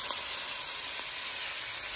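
Baby broccoli sautés in a pan with onion, ginger and garlic, giving a steady, close hissing sizzle that holds evenly throughout without talk.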